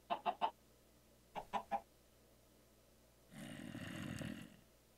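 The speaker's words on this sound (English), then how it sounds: "The ticka-ticka noises of these chicken feet still catch me by surprise." A chicken in the Minecraft video game gives two quick sets of three short, sharp clucking ticks, then a louder rough, hissing burst follows near the end.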